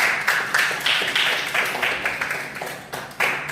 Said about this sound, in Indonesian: Berikan dulu tepuk tangan kepada teman.